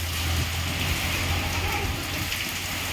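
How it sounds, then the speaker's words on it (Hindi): Heavy rain pours down on a village in Azamgarh, a loud, constant dense hiss of drops hitting surfaces, steady and close without pause. "अभी देखिए बहुत ज़्यादा बारिश हो रही है"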